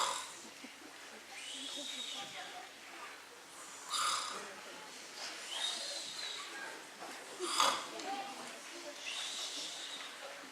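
Sleeping characters in a theatre play snore aloud in slow repeated rasping snorts and breaths, several drawn-out snores over about ten seconds, likely voiced by performers imitating the sound.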